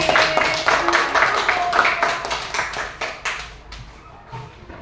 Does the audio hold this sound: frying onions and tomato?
no